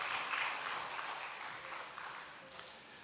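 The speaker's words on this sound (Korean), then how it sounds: "여러분 큰 박수로 축하해 주시기 바랍니다" A church congregation claps during a Sunday worship service, a soft, fairly distant wash of applause that tapers slightly toward the end.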